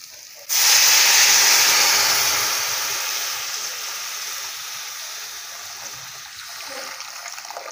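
Hot water from a pot is poured slowly into a kadai holding vermicelli, starting with a sudden loud sizzling hiss of steam that gradually fades to a softer, steady hiss.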